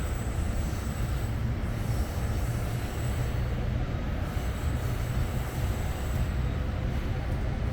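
An Exo commuter train on the Vaudreuil-Hudson Line picking up speed, heard from on board as a steady low rumble of wheels and running gear with a faint high whine and no clear talk.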